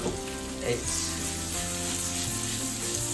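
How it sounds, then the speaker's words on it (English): Butter sizzles as it melts and browns in a pan over low heat, a soft continuous crackling hiss close by, with faint tones running underneath. "we just melt a little bit of butter until it starts going nut brown"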